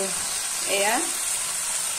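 Cumin seeds (jeera) fry in a pan for an Assamese fish curry, giving a steady, close sizzling hiss, and a voice briefly speaks over it.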